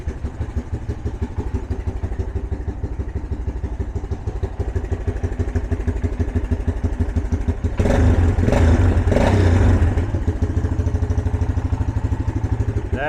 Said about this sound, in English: That engine's quiet as a mouse.